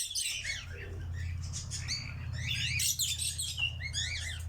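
A mix of birds in an outdoor aviary, including doves, lovebirds, cockatoos and quaker parrots, chirps and squawks steadily and densely over a low continuous hum, with calls overlapping throughout.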